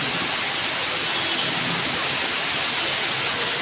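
Heavy rain pouring steadily, a dense continuous hiss close by with no breaks.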